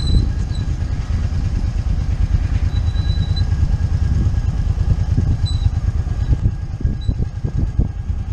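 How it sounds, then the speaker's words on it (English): A motorcycle engine braking while riding through the historic streets of Charles Town and Harpers Ferry, West Virginia, with a steady low rumble and dense rapid firing pulses that stay loud and constant throughout, without talk. "I'm using engine braking here."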